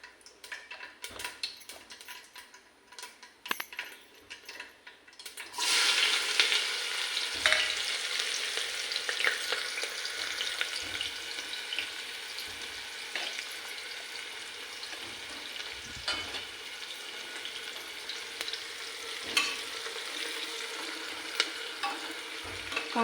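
Sliced onions hit hot oil with cumin in a home kitchen pan, and after a quiet stretch of faint clicks and taps a steady, moderately loud sizzle rises and holds, with occasional stirring knocks.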